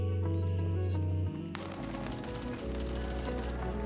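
Automatic gunfire during PvP combat in the video game Gray Zone Warfare, with rapid bursts of shots over a steady in-game music and ambience bed, fairly loud throughout.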